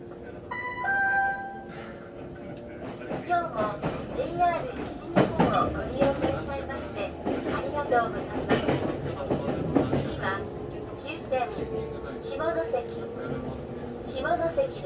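Rumbling Hikari Shinkansen train running steadily past the Hatabu freight switchyard, with rhythmic rail clatter and brief high tones through the whole stretch while a voice talks over it.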